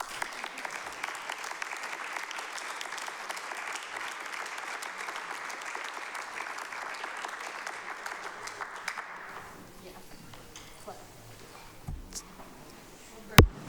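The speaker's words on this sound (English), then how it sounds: "Now let's clap." Applause breaks out in a city council chamber after a vote, a steady moderate clatter of many hands lasting about nine seconds before dying away into quiet room noise with a few scattered knocks and a sharp thump near the end.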